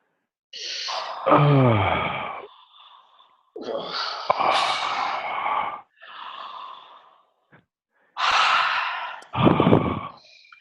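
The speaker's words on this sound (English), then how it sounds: "And allow a yawn to happen in your belly." A long, breathy yawn during a voice exercise, with a drawn-out voiced sigh and gasping inhalations in several separate bursts, close and moderately loud, with quiet pauses in between.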